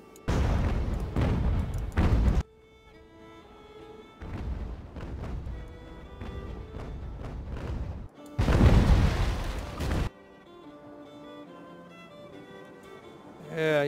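Naval cannon broadsides in Ultimate Admiral: Age of Sail, heavy booming volleys in three loud bursts separated by quieter stretches of rumbling and distant fire.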